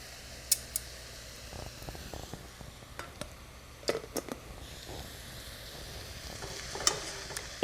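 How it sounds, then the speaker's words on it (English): Chopped chanterelle mushrooms sauté in a pan at a moderate, steady sizzle, with scattered clicks and scrapes of stirring breaking through a soft background hiss, all fairly close. "we're just gonna saute them rather briefly, but we're gonna get them tender"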